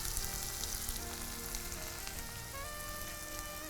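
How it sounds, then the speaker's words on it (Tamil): Onions sizzle steadily in hot oil with curry leaves and a pinch of asafoetida, a continuous close frying crackle that holds even throughout. "இப்போ வெங்காயம் நல்லா ஓரளவுக்கு வதங்கிட்டு வருது."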